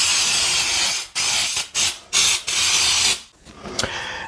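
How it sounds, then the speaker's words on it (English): Pam nonstick cooking spray is pumped into a Bundt pan for a pound cake in a series of loud, close hissing bursts, each about half a second to a second long with brief gaps between them. "you can spray it with Pam or nonstick spray"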